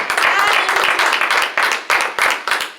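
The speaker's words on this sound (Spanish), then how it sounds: "Denle palmas al Señor en esta tarde preciosa" Church congregation clapping in a loud, steady rhythm of sharp hand claps during a worship service, close and dense, with some voices mixed in.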